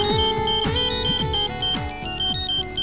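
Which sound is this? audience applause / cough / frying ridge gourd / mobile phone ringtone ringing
mobile phone ringtone ringing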